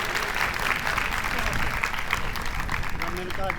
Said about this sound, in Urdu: بھرپور تالیاں بجائیں ان لوگوں کے لیے۔